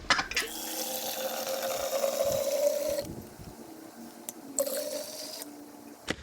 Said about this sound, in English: Alright, so we added our water.